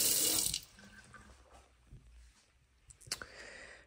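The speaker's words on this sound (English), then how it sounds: "nice faucet." Water briefly runs from a bathroom faucet into a sink in a rental home, a short splashing burst at the start followed by quieter drips and small handling sounds.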